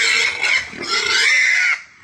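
Fattener pigs squeal loudly and continuously while they are loaded for hauling on a rural farm, a close, harsh, sustained cry that breaks briefly and then resumes.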